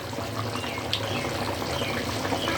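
A pot of chicken and vegetable curry gravy bubbles at a steady, faint simmer, giving an even hiss and soft gurgle with no break.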